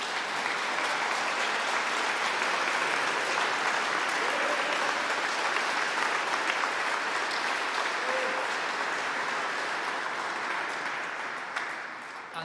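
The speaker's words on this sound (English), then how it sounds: "Give them another round of applause." Applause fills Truro Cathedral for the choral scholars at a composition competition, a long, steady roomful of clapping that carries on for several seconds and eases off slightly at the close.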